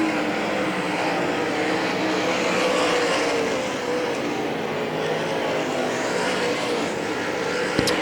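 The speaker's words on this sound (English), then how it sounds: "Halfway in tonight's late model Sportsman main event." A pack of late model sportsman race cars roars around Hagerstown Speedway, a loud, sustained blend of engines that rises and falls slightly as the field circles the track, with no talking.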